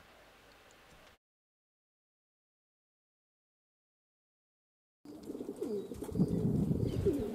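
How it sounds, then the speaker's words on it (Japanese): Pigeons give low, soft cooing calls that rise near the end after a long stretch of total silence, with faint outdoor background before the gap. "何かに驚いて鳩がまた一斉に飛び上がってしまいました"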